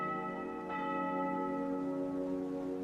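Church bells ring at the Basilica of Guadalupe on Tepeyac Hill in the early morning, one sustained resonant peal with a fresh strike partway through, steady and moderately loud with no voices.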